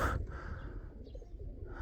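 Pigeons from a Polish fancier's flock cooing nearby, soft low murmuring calls continuing through the short stretch without talk.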